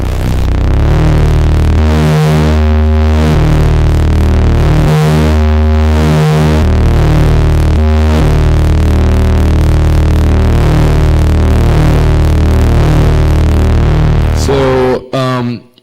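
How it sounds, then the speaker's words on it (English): Moffenzeef Stargazer synth with its sub switch on, dropping a detuned sub octave beneath the tone: a loud, steady, droning bass-heavy sound with rhythmic pulsing that holds for about fifteen seconds and cuts off abruptly at the end, with no talking. "if you flip the sub switch, it goes down a sub octave, so it's like a sub bass"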